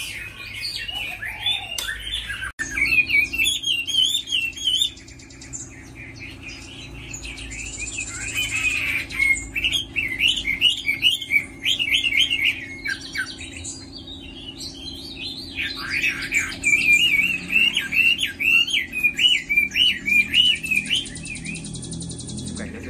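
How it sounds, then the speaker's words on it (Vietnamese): Hwamei songbirds kept at home sing loud, close, varied phrases of rapid whistles and trills, pausing briefly between bursts, with a faint low hum underneath. "Chia sẻ các bạn chú họ Mi đang nuôi tại nhà rất là đẹp."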